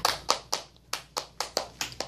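An elementary math class gives a student a rhythmic group clap: about nine crisp, loud claps in a steady beat, close by, with no talk over them.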